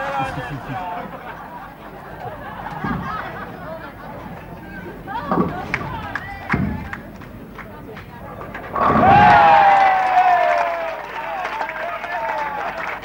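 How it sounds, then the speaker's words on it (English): Crowd at a 1969 National All Star bowling final cheering after a strike, a rising burst of applause and shouts that swells loudly partway through, with a commentator talking over the lanes before and after. "certainly the crowd are coming to life here"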